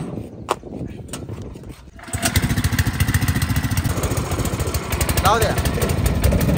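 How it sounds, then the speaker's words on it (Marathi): An Eicher tractor engine idles quietly, then revs up and runs with a rough, rapid, loud diesel chug that holds steady, with a short spoken remark early on. "आपला आयशर ट्रॅक्टर पहा किती पळतोय."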